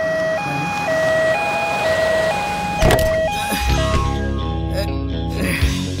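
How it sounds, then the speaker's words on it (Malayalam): A two-tone ambulance siren alternates its pitch steadily in a Malayalam comedy film scene, then a sudden loud thump breaks in and a low engine rumble carries on beneath fading siren tones. "ആംബുലൻസ്."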